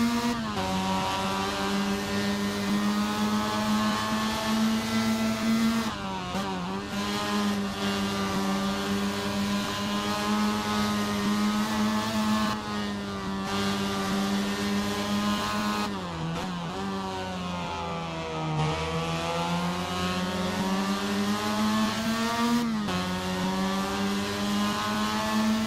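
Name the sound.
racing car engines, Formula Mazda and MX5 in Assetto Corsa video game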